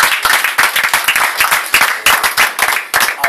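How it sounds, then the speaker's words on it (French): A church congregation claps in rapid, irregular bursts during a baptism service, the sharp hand claps dense and close with no voices over them. "Clap for the Lord."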